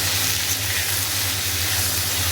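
Tomatoes with salt frying in a pan for a Bengali pea-lentil fritter curry, giving a steady, close sizzle that holds level and unbroken with no talking.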